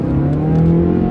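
Mazda 2.5 liter four-cylinder Skyactiv engine pulls hard under acceleration, a loud, close, steady engine drone with a rising tone over a brief stretch, no voices.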